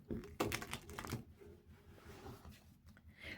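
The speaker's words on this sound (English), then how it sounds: "I feel like I need to shuffle one more time." Tarot cards being shuffled by hand during a card reading, a quick run of soft riffling and tapping that starts loud and busy and then eases into lighter, scattered card sounds.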